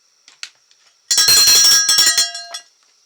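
A small handheld bell rings brightly several times in a quick cluster, with a few faint taps and rings just before and after.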